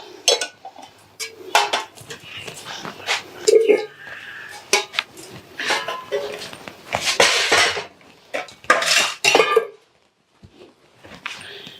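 Dishes, pots and cutlery are gathered and stacked in a Punjabi household kitchen, with close, repeated clattering and clinking bursts in an uneven rhythm before everything falls quiet.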